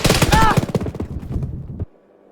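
Gunfire in Arma 3 crackles in a rapid burst of close, loud shots over a voice, thinning into a few scattered reports before cutting off.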